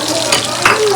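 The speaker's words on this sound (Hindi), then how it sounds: "और यहाँ पे फ्राई कर रहे हैं" Biryani ingredients frying in a home kitchen pan, a steady broadband sizzle running throughout with a brief louder crackle, while voices and household chatter sound faintly in the background.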